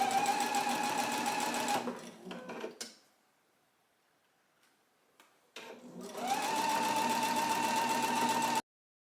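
A sewing machine runs gathering stitches along a dress seam in two steady, close bursts of fast whirring. A quiet pause of a few seconds separates them.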